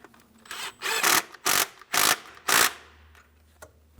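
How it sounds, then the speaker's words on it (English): A 10mm mounting bolt is run down and snugged into a plastic intake on a 2015-2025 Ford Transit 250, heard as five short, close rasping bursts with brief pauses between, then quiet. "I've got my 10mm mounting bolt. I'll start it in, snug it up."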